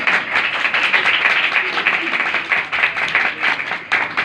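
A church congregation claps vigorously during a Hindi-language sermon, a dense, rhythmic wash of many hands that holds strong for several seconds, with brief dips.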